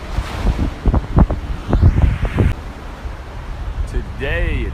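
Wind buffets the microphone over ocean surf on the beach, a steady rushing roar with a voice talking over it through the first half.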